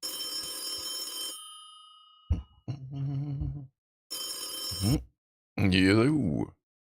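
A telephone bell rings in bright, loud bursts, with a couple of voiced speech segments between the rings.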